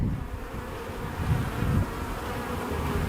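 Honey bees buzz steadily and densely up close as a hive is opened for its first inspection after a cold Texas winter, a continuous low drone that swells slightly midway, no talking.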